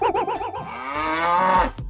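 A cow moos loudly and close by, a long wavering bellow that rises and holds before trailing off.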